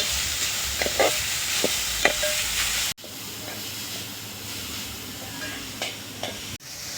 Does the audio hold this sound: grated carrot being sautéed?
yes